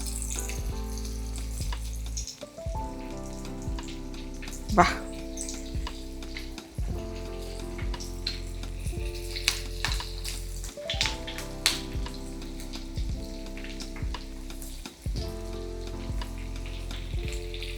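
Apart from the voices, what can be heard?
chilapi fish coated in semolina frying in hot oil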